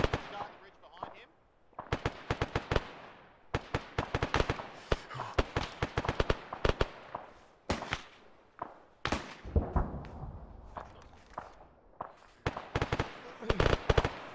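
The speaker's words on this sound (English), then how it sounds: "What was that explosion south of us?" Explosions and gunfire in an ARMA 3 military simulation, sharp cracks and booms in irregular bursts, some near and loud and others more distant, with radio voices talking in between.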